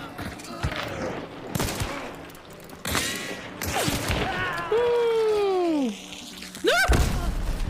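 Uppercut revolver gunfire in Hunt: Showdown, several heavy, booming shots spaced irregularly and mixed with game effects and sweeping tonal sounds, close and loud, with a voice briefly audible.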